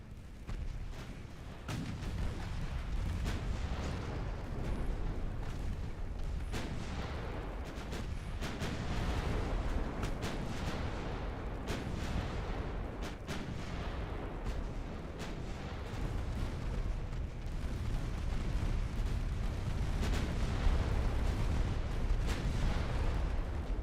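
Naval gunfire from warships in Ultimate Admiral Dreadnoughts: a continuous barrage of heavy booming salvos and rumbling blasts, loud and dense throughout with no pauses and no voices.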